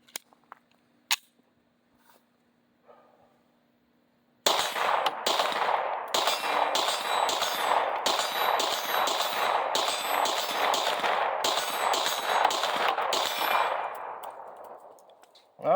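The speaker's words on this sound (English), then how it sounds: "All right, another mag went off with no problems." A Glock 26 pistol empties a full magazine in a rapid string of sharp, loud shots over about ten seconds, echoing outdoors, after a few isolated clicks and a single early report.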